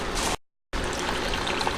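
Water trickles out of a hole cut in the bottom of a tilted seed tray in a greenhouse aquaponics setup, a close, steady dribble briefly cut to silence before it resumes.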